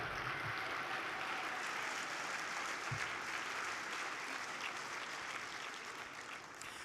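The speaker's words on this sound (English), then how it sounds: "Let's give them a round of applause." An audience at an awards gala applauds in a broad, sustained wash of clapping that is fairly faint and distant and fades slightly toward the end.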